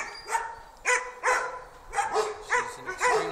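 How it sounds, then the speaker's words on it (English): Swedish Elkhounds (Jämthund), hunting dogs, bark in a loose series of about seven sharp barks and yips at moderate distance, with no talking over them. "one of the few Nordic champion hunting Swedish Elkhounds in the world in the background"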